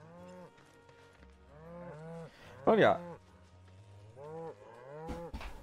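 A cartoonish cow moos several times in the video game Final Fantasy VII Rebirth, the drawn-out calls recurring over game music with a loud burst midway, while someone speaks briefly in German.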